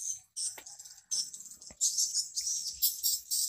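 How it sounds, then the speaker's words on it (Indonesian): Swiftlet calls in a bird house setting come as bursts of high, buzzy chirping, repeated in uneven clusters and chasing one another, fairly close and moderately loud with brief gaps of near silence. "ini burung waletnya mantap ya, tengok pada kejar-kejaran"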